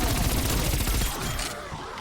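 A rapid-fire gun with a large magazine shoots zombies in Black Ops Cold War, a loud, dense burst of fast shots that tapers off after a second and a half.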